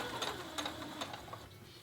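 A sewing machine stitches a fabric appliqué in a quiet, rapid mechanical whir with evenly spaced ticking pulses, speed controlled by a foot pedal.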